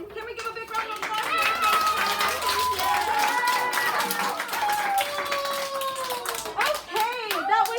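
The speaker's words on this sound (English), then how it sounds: "Can we give a big round of applause?" A high school audience at a chemistry magic show claps and cheers, with loud, busy clapping mixed with children's excited voices and shouts over the whole stretch.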